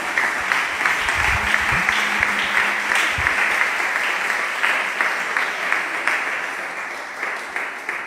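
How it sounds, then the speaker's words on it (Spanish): Church congregation applauding during a sermon, a sustained wash of many hands clapping with a low rumbling thump early on, gradually easing off toward the end. "Denle un aplauso al Señor"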